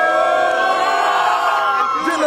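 Crowd at an outdoor street boxing match in Orlando cheering and whooping for a fighter, a loud dense wash of voices with shouts rising near the end.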